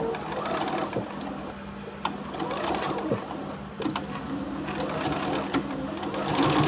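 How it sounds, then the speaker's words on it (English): Sewing machine stitching through several layers of fabric and ribbon on a Christmas tree pouch, a steady close mechanical whir with a rapid needle rhythm and a few sharp clicks, running throughout under occasional talk. "This machine really isn't liking layers today. It normally just whizzes through them"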